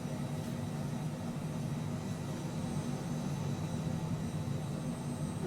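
Steady, continuous jet engine drone from a Cessna Citation Mustang C510 business jet in Microsoft Flight Simulator, an even cockpit hum at moderate level with no talk over it.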